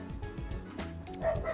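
Puppies yip and bark in quick high bursts, excited and fairly close, with a rising wail from the noon air siren behind them toward the end.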